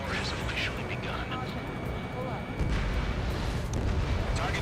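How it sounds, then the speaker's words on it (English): Anti-aircraft fire in the video game Ace Combat 7 makes a dense, continuous roar of rapid booming bursts that grows heavier partway through, with radio voices talking over it. "Fire the AA!"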